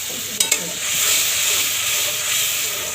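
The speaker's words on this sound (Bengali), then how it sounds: "এখন আমি নাড়াচাড়া দেবো" Spices with ginger and garlic paste frying in a pan, a couple of quick spoon clinks and then a bright sustained hiss and sizzle with gentle stirring, close and fairly loud.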